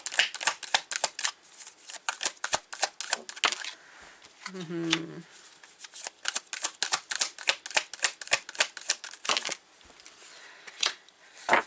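Tarot cards shuffled quickly at close range, a long run of crisp, rapid riffling flutters and slaps with brief pauses, and a low murmur briefly heard partway through.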